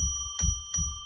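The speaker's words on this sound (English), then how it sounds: "We've had our bell" A bell rings to declare sacred space on a live psychic radio show, with two bright, sustained tones struck about a third of a second apart, ringing on steadily over a low background hum.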